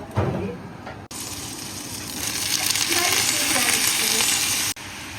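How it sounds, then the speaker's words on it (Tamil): Leafy greens hit hot butter in a pan with a sudden bright sizzle that holds steady for several seconds, then cuts off abruptly; the frying sounds close and fairly loud. "நாங்க இப்ப கீரைக்கு பட்டர் போட்டு வறுப்போம்."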